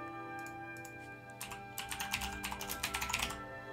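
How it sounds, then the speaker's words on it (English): Quick clacking keystrokes on a computer keyboard as a search is typed into a Skyrim mod tool, starting as scattered taps and building into a dense, rhythmic burst of close, crisp clicks over a faint steady hum. "So let's type in Expanded Towns."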